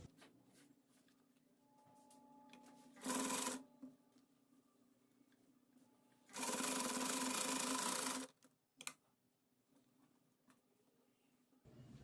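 Sewing machine stitching a folded fabric cord for a circle frock, running in two bursts: a short one of under a second and a longer steady run of about two seconds, with quiet handling between.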